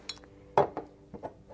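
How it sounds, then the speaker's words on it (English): Amber glass candlestick holders with a diamond print clink together as they are handled, giving a few sharp, close glassy taps spread across a short, quiet moment. "These are amber glass candlestick holders."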